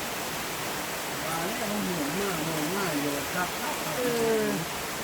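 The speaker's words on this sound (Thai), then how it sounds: "ฝนตกตอนเนี้ย" A steady hiss of rain falls over rice fields in Thailand throughout while a person talks over it at close range.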